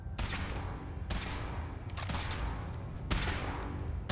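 Gunfire rings out during a power armor weapons test at the Fort Strong Armory in Fallout 4, with several sharp bursts roughly a second apart over a rumbling backdrop, fairly quiet overall.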